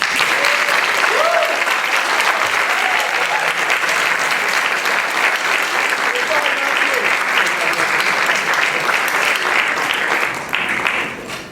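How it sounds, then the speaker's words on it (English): A graduation audience claps at length, a broad sustained applause from many hands that runs steady for about ten seconds before tapering off, with faint voices mixed in. "Please give them a round of applause."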